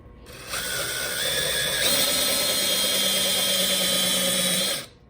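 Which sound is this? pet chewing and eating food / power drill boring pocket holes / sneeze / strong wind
power drill boring pocket holes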